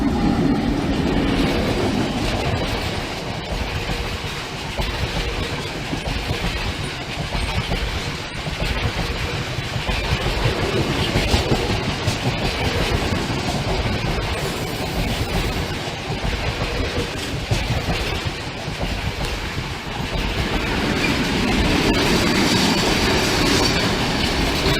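A train rolls slowly over the Barnby Road level crossing near Newark, a loud, continuous rumble with rhythmic clickety-clack of wheels on rail joints and occasional wheel squeal, heard close throughout.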